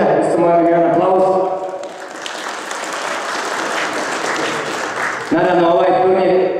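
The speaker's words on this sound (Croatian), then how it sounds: "Također moram da pozdravim naše goste iz Bihaća, gospodina Muhameda Borića, isto moram jedan aplauz" An audience at the opening of the 5th Svetosavski chess tournament in Gornji Podgradci bursts into dense applause for a few seconds, between stretches of amplified speech.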